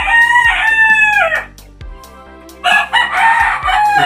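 Roosters crow loudly and close by in a backyard flock during rainy, flooded weather, two long cock-a-doodle-doo calls separated by a brief gap, with hens faintly clucking underneath.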